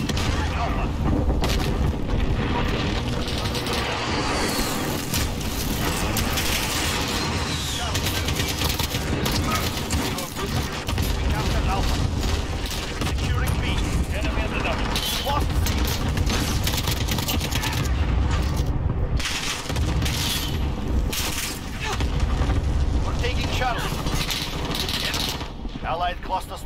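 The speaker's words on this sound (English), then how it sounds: "Allied cluster strike is coming" Cluster strike explosions in a first-person shooter game, a dense, continuous barrage of booms and rattling gunfire layered together over nearly half a minute, loud and relentless, with occasional voices mixed in.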